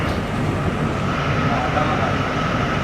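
A small private jet, heard from inside the cabin, makes a loud, continuous engine roar with a low rumble. The drone stays steady and close, with muffled talk mixed underneath.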